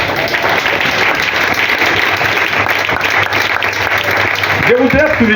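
A church congregation applauding after a scripture reading, a loud, dense and sustained wall of clapping, with a voice briefly rising near the end.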